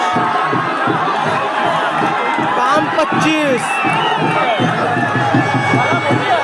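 A large crowd at the Raibadevi village yatra festival in Maharashtra cheers and shouts "Jai Shri Ram" continuously, a dense, loud outdoor roar with whoops and voices rising above it.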